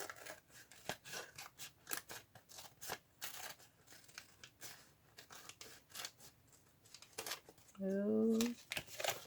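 Scissors snipping through a journal cover while making a Valentine-themed tag book, a run of crisp close cuts and paper crinkles, with a person speaking briefly between them.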